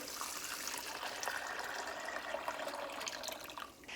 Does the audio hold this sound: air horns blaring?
no